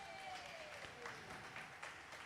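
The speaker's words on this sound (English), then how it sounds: "So a big round of applause for bronze medal goes to Amelia Saunders." Applause at a swimming championship medal ceremony for a bronze medallist, a faint, distant spread of clapping from the crowd in a large echoing venue, with a voice briefly audible beneath.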